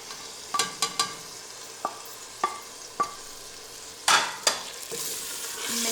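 Urad dal is stirred and fried in a pan with green chili and seasonings. Distinct spoon knocks and scrapes come at irregular intervals over a quiet sizzle, followed by a louder burst of frying near the end. No voices are heard.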